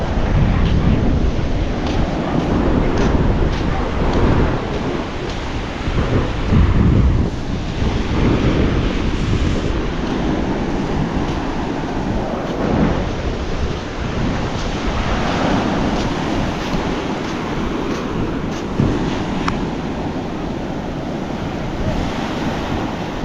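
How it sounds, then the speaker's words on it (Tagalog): Sea waves break and wash along the shore in a continuous loud roar of surf, with gusts of wind buffeting the microphone the whole time. "Pakalayo na naman ng dagat ulit mga tsepo."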